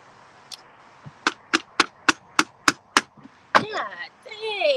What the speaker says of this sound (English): I'm about to have to hammer this shit in here